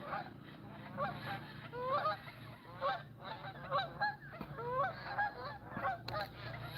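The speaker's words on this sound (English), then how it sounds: "Oh, the old geese are taking off." Geese honking as they take off from a pond in Plymouth, Maine: a flock's repeated overlapping honks come in bursts at moderate distance over steady background hum.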